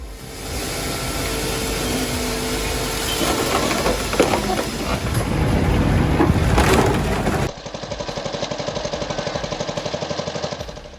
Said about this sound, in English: The flywheel and wedges operate smoothly, splitting wood with incredible precision